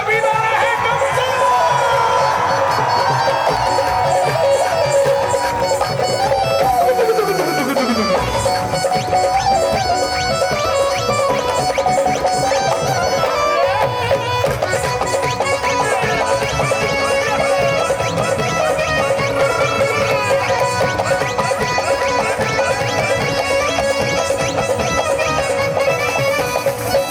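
Crowd at a live Khatu Shyam jagran in Assandh, loud and continuous cheering and shouting throughout, with music and a singer's voice blended in.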